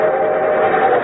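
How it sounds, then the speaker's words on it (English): A short train sound effect on an old radio broadcast: a loud sustained whistle-like tone with rumbling rail noise underneath, heard alone with no talk and a narrow, muffled band. "And here comes our star-studded show train."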